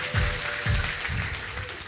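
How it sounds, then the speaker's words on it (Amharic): A church congregation applauding in rhythmic unison, a few loud, evenly spaced claps close by over a busy background of voices and room noise. "አጨብጭቡ ጉባኤ ለጌታ ክብር"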